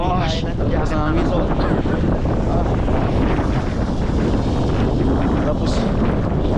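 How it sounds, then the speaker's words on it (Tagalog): Strong winter wind in Canada buffets the microphone with a constant loud roar, while a voice talks briefly at the start. "Lakas ng hangin."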